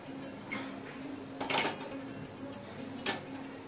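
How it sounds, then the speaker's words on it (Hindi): Cumin, mustard seeds and fennel seeds crackling in hot oil, heard as a sparse scatter of light ticks and pops with a few sharper crackles over a low steady sizzle, close by with no talking. "आधा चम्मच जीरा और आधे चम्मच से थोड़ी कम राई और आधा चम्मच सौंफ, इसको हम तड़कने देंगे"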